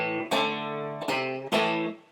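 Three distorted electric guitar chords of a blues riff struck in a slow blues rhythm, each ringing out loud and sustained before the next hit.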